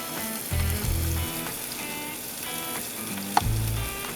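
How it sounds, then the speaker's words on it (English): Mushrooms sizzle loudly in a pan of steak juices, a steady broadband fry with a few louder bursts and scraping stirs, close up with no talking. "I love to cook my vegetables in my steak juices. So I'm gonna go ahead and throw these mushrooms in there"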